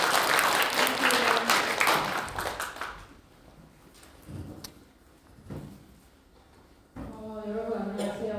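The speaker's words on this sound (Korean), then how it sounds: "뜨거운 박수 부탁드립니다." An audience applauds a lecturer being introduced at a Gyeongju history and healing humanities talk. The clapping is dense and loud for about three seconds, then thins into scattered claps and shuffling before a voice starts speaking.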